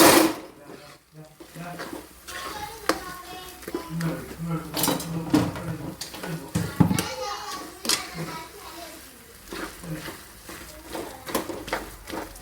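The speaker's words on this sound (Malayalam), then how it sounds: "ഇപ്പം നമ്മൾ കിഴങ്ങിട്ട് കൊടുത്തിട്ടുണ്ട് ഇതിലേക്ക് ഇത് നമ്മൾക്ക് നല്ലതുപോലെ ഒന്ന് മിക്സ് ചെയ്യാം" A spoon stirs and scrapes potato masala filling for Kerala-style masala dosa in a pan, with repeated clanking metal knocks at an irregular rhythm; voices and household chatter are heard in the background.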